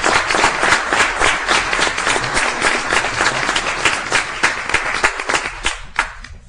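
Audience at a Shawnee, Oklahoma city commission meeting breaks into steady, full applause, many hands clapping at once for several seconds before tapering off near the end.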